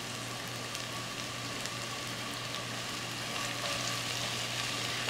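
Sliced yellow onions frying in olive oil in a skillet over medium-high heat, a soft steady hiss like light rain, fairly faint and even throughout, with a low hum beneath and no voices.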